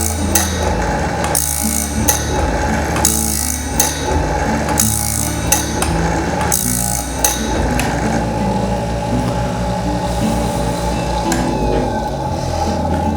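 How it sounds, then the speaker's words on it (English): A loud, continuous saw blade sharpening machine grinds steadily with rhythmic metallic clacks and ratcheting every second or so. No voices are heard. "And we're coming up on the point where I started this blade sharpening."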